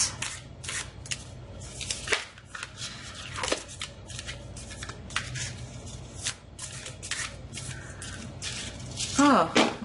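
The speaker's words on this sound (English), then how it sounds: "this deck is kind of difficult, or like it's challenging to shuffle" Tarot cards from a Stranger Things themed deck being shuffled by hand, a run of crisp riffling and slapping bursts that start and stop irregularly, close and fairly loud, with a faint voice and some handling noise.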